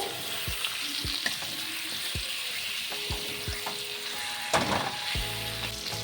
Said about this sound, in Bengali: পেঁয়াজের সঙ্গে এটা একটু কষিয়ে নেবো।